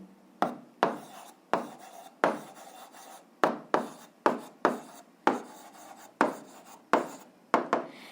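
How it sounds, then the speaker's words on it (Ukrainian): A pen writes an answer for an eighth-grade algebra exercise in a series of short, close scratching strokes, each starting with a sharp tap and fading quickly, repeating in an irregular rhythm. "Ну, а зараз записуємо відповідь, пишемо відповідь."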